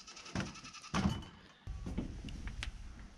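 Baby meat goats bleat in a few short, close calls with brief pauses between them, with faint farmyard rustling in the background and no talking.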